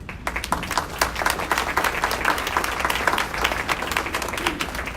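A crowd applauds steadily for several seconds, dense overlapping claps at moderate volume with no voices standing out.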